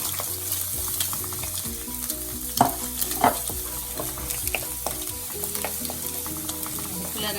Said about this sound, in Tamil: சின்ன சின்ன நறுக்கின உள்ளி, பச்சை மிளகாய், வெங்காயம் போட்டு ஒரு கிளறணும்.